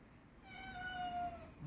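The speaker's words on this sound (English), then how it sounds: "I think my cat wants in." A house cat meows from outside, wanting to be let in; a single drawn-out, fairly faint call rises and falls against quiet background hiss.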